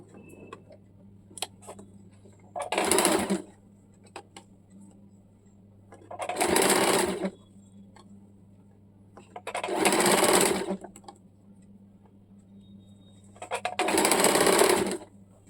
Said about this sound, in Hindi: अभी इस प्रकार से पट्टी को फोल्ड करके हम लोग सिलाई चला लेंगे।